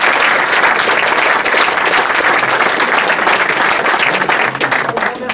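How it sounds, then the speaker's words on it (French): Loud, warm applause from a conference audience at the close of a talk on currency trading strategies, a dense even wash of clapping that holds steady before tapering slightly at the end. "On peut applaudir chaleureusement."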